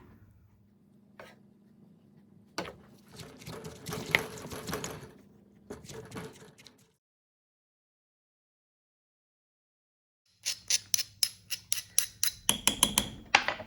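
Tomato being smashed with chillies and garlic, sharp repeated pounding knocks in bursts, ending in a fast rhythmic series of close, crisp strikes with pauses of quiet between.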